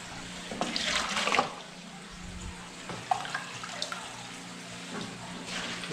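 Water scooped and splashed by hand at a lake to keep a freshly caught fish wet, a few sloshing pours and drips that come in bursts, near and fairly quiet with no talk.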